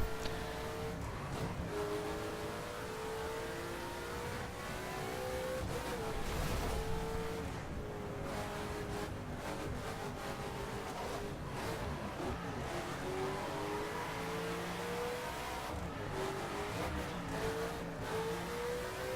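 A supercar engine in The Crew racing game revs and drops through tight hairpin corners on a circuit, its droning pitch rising and falling as the wheels spin, loud and continuous.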